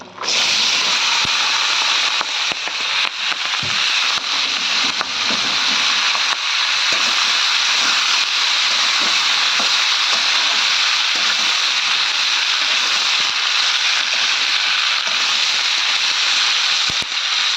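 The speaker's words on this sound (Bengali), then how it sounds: "এবার কড়াইতে দিয়ে দিয়েছি তেল, আর এই যে পেঁয়াজ কলিটা কিন্তু এবার ঢেলে দেবো।" Spring onion stalks fry in hot oil in a wok, giving a loud, dense, continuous hiss that stays steady for the whole stretch. Scattered small pops and crackles break through the hiss.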